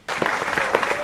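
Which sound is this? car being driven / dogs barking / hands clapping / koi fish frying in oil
hands clapping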